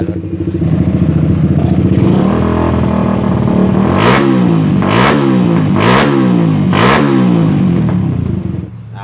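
A Suzuki Satria FU motorcycle engine idles loudly up close with a clattery, uneven tone, then revs up four times in quick rising bursts before settling back, with no talking.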